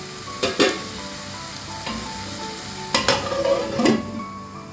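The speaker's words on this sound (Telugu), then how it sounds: "అదిగోనండి, చాలా వరకు కూడా ఫ్రై అయిపోయి ఒకసారి ఇలా కలుపుకొని చూసుకుందాము" Onions fry in a pan with salt added, a steady sizzle under several sharp scrapes and clacks as the spoon stirs them, close and fairly loud, with no talk.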